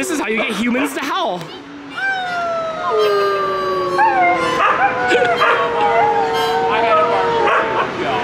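Several long, wavering husky howls overlap and rise and fall together, mixed with a few yips, loud and close, with human voices joining in, at a pet expo.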